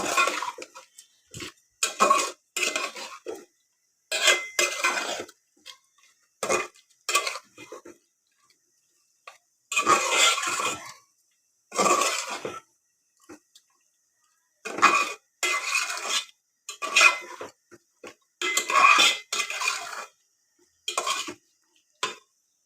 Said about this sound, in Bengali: এখন এটাকে ভালো করে কষিয়ে নেব।